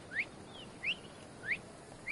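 A short rising whistle in Assassin's Creed Odyssey repeats four times at an even pace, clear and moderately loud over a faint background hiss.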